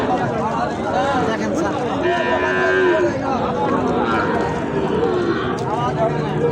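Sahiwal cattle at Ambari cattle market lowing in several drawn-out moos over a steady crowd hubbub, with people talking close by throughout.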